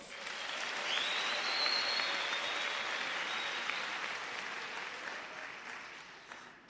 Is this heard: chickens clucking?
no